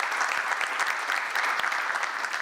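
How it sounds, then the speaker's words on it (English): Audience applause at a conference panel during a big data and analytics meeting at a hotel, steady dense clapping from a room of people throughout, with no talk over it. "Please, everyone, give them a round of applause."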